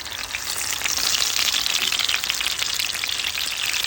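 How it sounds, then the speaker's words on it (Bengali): Small marinated local tilapia fish frying in a wok, a dense steady crackling sizzle that swells slightly and holds, close and alone with no talk. "আগে থেকে ম্যারিনেট করা মাছগুলো আমি এখন কড়াইতে দিয়ে দিচ্ছি।"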